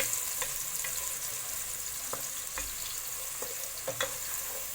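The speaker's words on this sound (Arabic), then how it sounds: "هيسخن معايا الزيت، السمنه بتاعتي. هنزل بالبصلايه" Onion frying in hot oil and ghee in a pan gives a steady, moderately loud sizzle with scattered small pops and ticks throughout, no voices.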